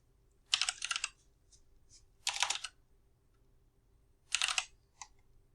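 Code being typed on a computer keyboard in three quick bursts of clattering keystrokes separated by pauses, fairly close and clear over a quiet background.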